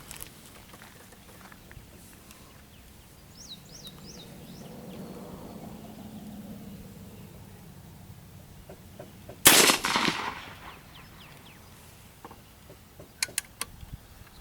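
A single sharp, loud gunshot from a Pedersoli Rolling Block .45-70 rifle cracks close by after a long stretch of quiet outdoor ambience, followed by a short echoing tail and a few faint clicks.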